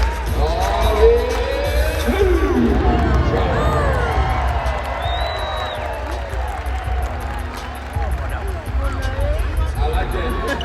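A Harlem Globetrotters arena crowd roars and whoops amid a loud hubbub, with shouts rising and falling, high whistles and music beneath, and an announcer-style voice carrying over the noise.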